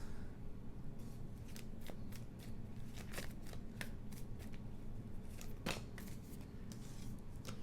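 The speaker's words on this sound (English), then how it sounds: "Cannot shuffle this deck." Soft, steady riffling of a tarot deck being shuffled close by, with repeated crisp flicks over a low background hum.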